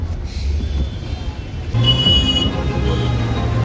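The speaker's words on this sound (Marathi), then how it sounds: "ट्रॅफिकच मिळाले आपल्याला" Street traffic in Pune rumbles by, low engine drone and passing vehicles with a faint beep, growing louder midway as a heavier vehicle draws near.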